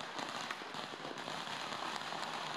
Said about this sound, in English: Best thing to do on Lantern Festival, fully geared up for the Beehive Firecrackers.